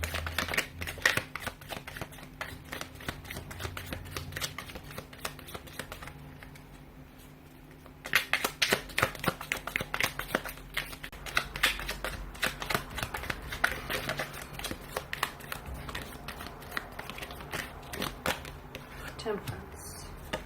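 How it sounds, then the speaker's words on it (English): Repeated crisp riffling and slapping of a tarot deck being shuffled close by, in several bursts with a brief quieter pause partway through. "give the cards a shuffle"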